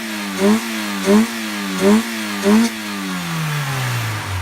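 A 1999 Honda EJ fitted with a pod filter and standard exhaust is revved in four sharp bursts, each rising and falling back to idle, then the engine settles into a steady, lowering idle, loud and close with no talk.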